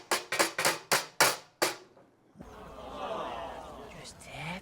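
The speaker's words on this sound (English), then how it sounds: "So basically you take this square and just tap it lightly with a hammer." A hammer lightly tapping a metal square on a car floor pan, seven sharp ringing taps in quick succession, then a pause and a person talking.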